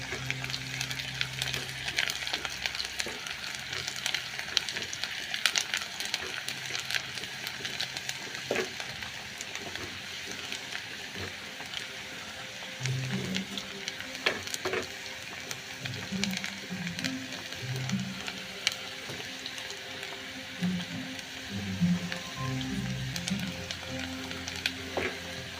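Onions fry in a pan, a steady close sizzle crackling throughout, with occasional stirring scrapes and soft knocks mixed in.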